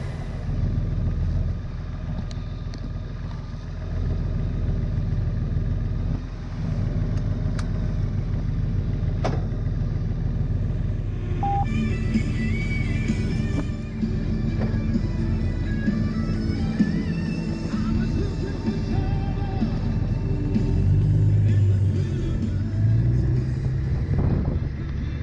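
A 2018 Honda Gold Wing Tour DCT motorcycle is ridden with automatic gear changes. The engine's rumble and the wind stay steady, broken by small shifts in pitch as the gearbox changes and downshifts on its own.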